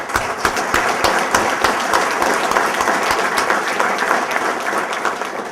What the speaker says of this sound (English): And I want to give them a special applause.